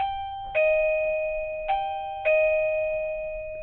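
A wireless doorbell receiver plugged into a wall outlet chimes three times, each clear, loud ding-dong tone ringing out and decaying in a quiet room with no talking.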